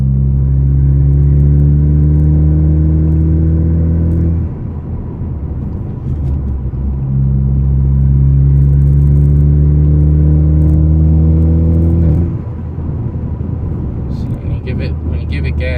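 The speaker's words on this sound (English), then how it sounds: "Now, just for the hell of it, I'll roll my windows up so you can get an interior cabin sound." Inside the cabin of a Ford Focus ST with the resonator and muffler deleted and the windows up, a deep droning exhaust rises steadily in pitch through two pulls, easing off briefly between them, loud and booming throughout.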